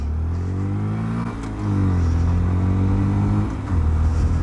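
A Honda GROM MSX125 125cc motorcycle engine drones steadily while riding, its pitch rising and dipping with throttle changes, loud and close, with wind rush over it.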